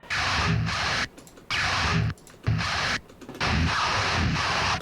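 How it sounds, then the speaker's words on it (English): Harsh, noisy guitar pick scrapes, pitch-shifted up a couple octaves with fast warbling vibrato, repeat four times, each about a second long, separated by short gaps. "I record pick scrapes, right? I pitch shifted them up a couple octaves, added some super fast vibrato."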